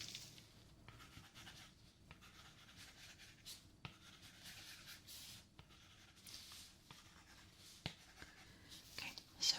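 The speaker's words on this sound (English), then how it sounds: "I'm just going to write some notes down" Close, quiet pen-on-paper scratching as notes are jotted by hand during an ear exam, soft strokes in uneven bursts with small taps and rustles.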